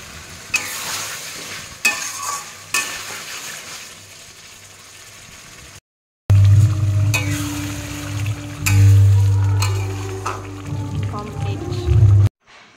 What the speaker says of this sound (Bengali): খুব সুন্দর কষানো হয়ে গেছে, তেলও ছেড়ে দিয়েছে